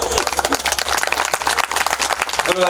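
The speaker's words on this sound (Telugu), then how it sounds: "మరొకసారి మీరు అందరూ గట్టిగా క్లాప్స్ కొట్టొచ్చు" Audience at a talk applauding, a dense burst of many hands clapping close and fairly loud for a couple of seconds, with a voice beginning to speak near the end.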